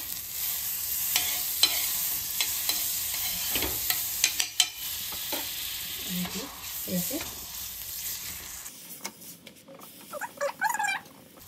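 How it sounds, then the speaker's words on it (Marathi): Wheat kulcha roasting in butter on a hot pan, a continuous bright sizzle with occasional scrapes and taps of a spatula, close by, changing near the end as the pan is handled. "आता आपण याला बटरमध्ये शेकून घेऊया"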